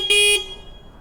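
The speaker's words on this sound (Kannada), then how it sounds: "ಹಾರ್ನ್ ಹೊಡೆದ್ರೆ ಗೊತ್ತಾದರೂ ಆಗತ್ತೇನಂತ" A vehicle horn honks once, a short loud bright blast lasting about a quarter second, then cuts off, leaving quiet background hum on a street during a food delivery shift.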